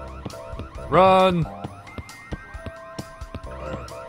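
A store alarm goes off in the video game Christmas Shopper Simulator, a short loud wailing siren burst standing out over background game sounds and music, with a voice shouting briefly.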